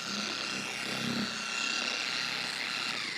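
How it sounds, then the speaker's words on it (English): A car polisher, set on its fourth speed, spreading compound across a car's paint with a steady, continuous whirring hum and a slight rubbing texture that holds even and close throughout. "I'll be spreading the compound with the polisher"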